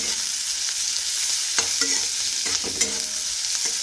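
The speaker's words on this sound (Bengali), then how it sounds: "এখন আমি আমার জন্য এই কালো জিরে, শুকনো লঙ্কা, পেঁয়াজ দিয়ে একটু আলু সেদ্ধ মাখবো, তাই এগুলো একটু ভেজে নিচ্ছি।" Black cumin, dried red chillies and onion fry in a pan, giving a steady close hiss of oil broken by soft stirring scrapes and small taps.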